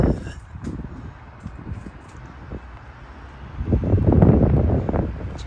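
Wind buffeting outdoors near a gigantic building with underground entryways, a low rumbling gusty roar against the microphone that swells louder toward the end.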